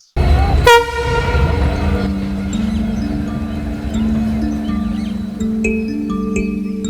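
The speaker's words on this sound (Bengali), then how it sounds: "ট্রেন আসছিল বলে ক্রসিংয়ে কিছুক্ষণ দাঁড়াতে হলো" A train at a level crossing sounds a loud horn blast up close, then its cars rumble steadily past with rattling wheels and a sustained low drone.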